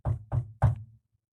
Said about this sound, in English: and knocks.